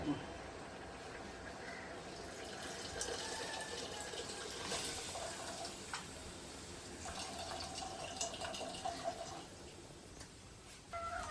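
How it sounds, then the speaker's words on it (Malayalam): Tamarind water poured into a simmering pot of Palakkad-style curry, giving a steady, continuous liquid splash and gurgle over a room background, with talk nearby. "ഇതാ അമ്മ പുളി ഒഴിക്കുന്നു പുളി അല്ലേ"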